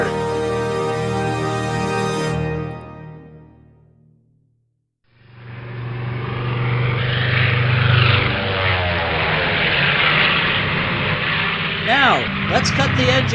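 Propeller plane engines roar steadily, cut out to near silence for a moment, then a broad rushing drone resumes with voices speaking over it.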